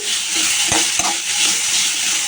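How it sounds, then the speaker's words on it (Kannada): Mixed vegetables for veggie fried rice fry in a pan on a gas flame with a loud, steady sizzle, and a few clinks of a spoon stirring against the pan. "ಇದು ಫ್ರೈ ಆಗ್ತಿರುತ್ತಲ್ಲ"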